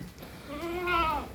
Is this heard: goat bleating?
yes